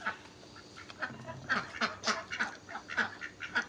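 A domestic duck waiting to be fed quacks again and again in quick, nasal bursts that overlap into a steady, busy chatter at close range.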